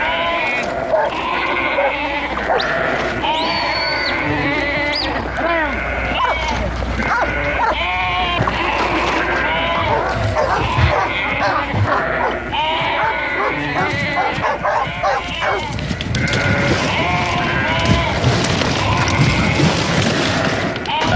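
A flock of sheep crowded tightly in a pen, with dogs working among them, gives a dense, continuous chorus of overlapping bleats, loud and close, while someone talks over them.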